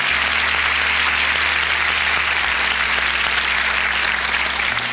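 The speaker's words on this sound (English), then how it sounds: "Why don't you give Lenore a round of applause" An audience at a Les Brown talk gives Lenore a round of applause, dense sustained clapping at even loudness filling the hall for several seconds with little else heard.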